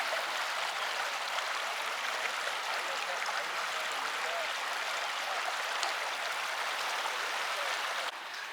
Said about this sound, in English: The water's pouring in from the dam though.